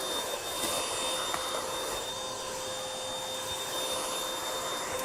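A Dibea M500 vacuum cleaner runs at maximum power, a steady, even motor whine with a faint high tone that holds unchanged throughout.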